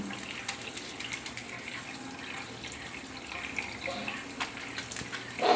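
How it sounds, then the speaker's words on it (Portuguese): Tap water runs into a sink while hands are washed beneath it, a steady soft splash with occasional sharper drips and rubbing sounds, fairly quiet and close, with no talking. "Termina de lavar o dorso, palma, pulso, dentro dos dedos também."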